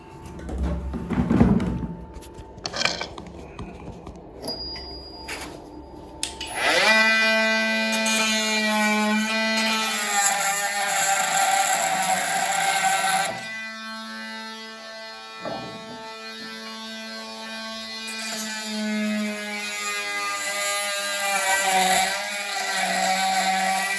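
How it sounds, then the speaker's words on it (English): A power cutting tool slices through rounded-off bolts, a loud whining, harmonic-rich cut running steadily for several seconds at a time, pausing briefly and resuming, after some initial clatter. "they're not undoing, they're just rounding off, so we're going to have to cut these off as well."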